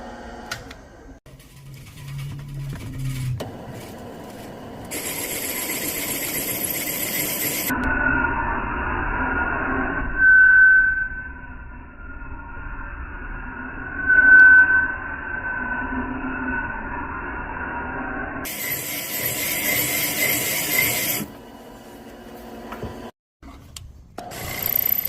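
A machine cuts a Ford Ranger 3.0 cylinder head, giving a steady grinding, rubbing whir with a few brief louder pulses, punctuated by sharper bursts of noise at start and end.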